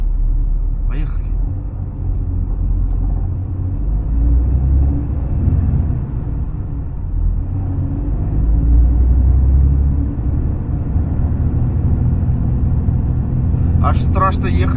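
A car pulls away on an uphill road during a long drive from Yekaterinburg to Yakutsk, trailing white smoke. A steady, loud, low engine and road rumble fills the whole stretch while a person talks.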